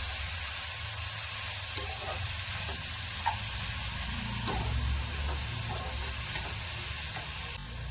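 Diced raw mango sautéing with salt in a hot pan gives a continuous close sizzle, broken by occasional utensil scrapes and stirring clicks, with no voices.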